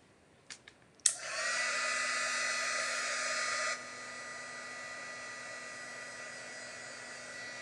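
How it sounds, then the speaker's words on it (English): A heat gun switches on after a few clicks and blows a loud, steady hiss and whir to dry wet paint on a painting in a studio, easing to a quieter, lower setting for the final seconds. "Let me throw a heat gun on it."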